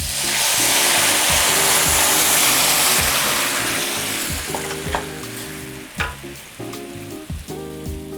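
Fresh lemon juice and hot sauce hit a hot pan of shrimp with a loud, hissing sizzle that gradually settles, while a spoon clinks and scrapes against the pan in the later seconds.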